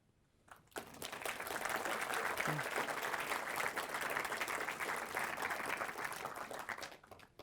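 A conference audience gives sustained applause after a talk on infrastructure as software, beginning abruptly, holding at an even, full level for several seconds, then tapering off.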